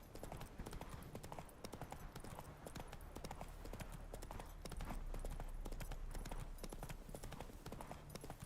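Roach, Geralt's horse in The Witcher 3, trots with steady rapid clip-clopping hooves, close and continuous, with soft background ambience.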